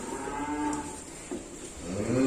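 Young cattle at an Indonesian livestock dealer moo in a continuous, fairly loud low call that runs the whole time, with a second bellow swelling near the end and no voices.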